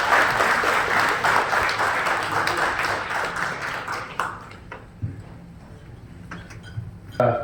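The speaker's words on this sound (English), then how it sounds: "Please give a round of applause." An audience at a book release event applauds in a full burst of clapping for about four seconds, then thins to a few scattered claps and taps before fading out.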